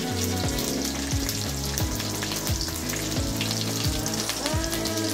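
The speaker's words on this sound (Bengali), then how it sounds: "টমেটো আদা কাঁচা লঙ্কা এগুলো সব একসঙ্গে একটু নেড়ে নেব।" Tomato, ginger and green chilli are stir-fried together in a pan for a vegetarian kabuli chickpea ghugni, giving a dense, steady sizzle that continues throughout under background music.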